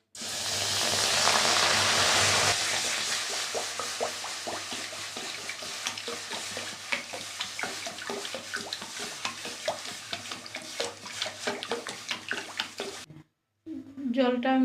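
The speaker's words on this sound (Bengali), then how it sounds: "কড়াইতে জল দিয়ে দিচ্ছি" Water poured into a hot wok of fried ingredients for a traditional village rice dish: a loud rushing hiss for about two seconds, then steady sizzling with frequent stirring clicks and scrapes, cut by a short pause near the end.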